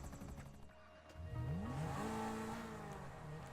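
Zentorno supercar engine in GTA Online revving hard, pitch sweeping upward through the gears, then holding a steady high drone with a hint of tire squeal, fairly close and alone.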